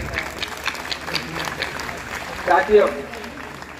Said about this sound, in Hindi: उनकी मम्मियों के लिए एक बार ताली जोर से बजाइए